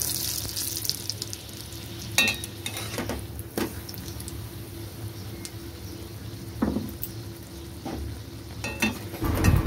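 Chickpea dal stuffed kochuri sizzles steadily in hot oil, with intermittent sharp clinks and scrapes of a metal utensil against the pan.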